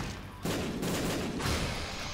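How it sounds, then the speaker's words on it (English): Bombs exploding in The Binding of Isaac: Afterbirth, a loud rumbling burst starting just before the half-second mark and a second surge about a second later, dense and noisy, with no talk. "I'm gonna summon bombs right on you"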